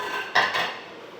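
Dishes and cutlery clatter briefly as shrimp in a caper sauce are plated, a short cluster of clinks and knocks close by in a quiet kitchen.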